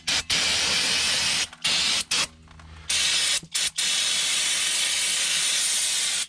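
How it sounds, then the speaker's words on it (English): Loud, close hissing jets of brake cleaner sprayed over Nissan Maxima brake parts such as the hub, bracket and caliper, long sustained bursts broken by brief gaps. "we're going to go ahead and brake clean everything."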